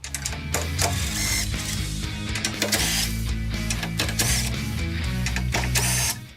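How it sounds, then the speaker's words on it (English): A 10mm socket on a ratchet backs out the grille screws on a Chevy Silverado 1500, rapid continuous ratcheting clicks loud and close throughout, no talking. "With a 10mm socket, we'll remove these 4 screws right here that are holding the grille on."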